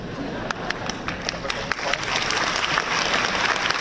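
An audience at a university gathering applauds with a dense, steady patter of many hands clapping that swells slightly toward the end, with some voices mixed underneath.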